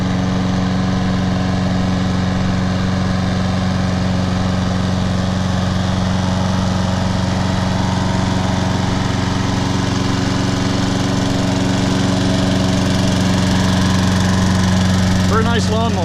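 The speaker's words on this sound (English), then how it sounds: "Very nice lawnmower." A John Deere JS35 walk-behind lawn mower with self-propel drive idles steadily close by, a constant low engine drone that holds unchanged the whole time, with a brief faint voice near the end.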